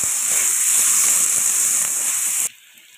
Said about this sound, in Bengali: তেলের মধ্যে পেঁয়াজগুলো দিয়ে দিচ্ছি।